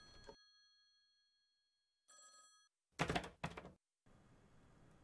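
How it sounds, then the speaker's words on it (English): Telephone ringing in the Thai RPG Maker horror game Last Week, a short bright electronic ring burst standing alone amid silence, followed by thumping knocks and low rumbling ambience. "Ooh, phone call."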